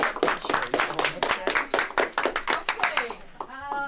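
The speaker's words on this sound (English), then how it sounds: "let's give her a round of applause" A small group claps in a classroom-style setting, a quick uneven patter of hands lasting a few seconds, close and fairly loud, with voices, including a child's, talking briefly near the end.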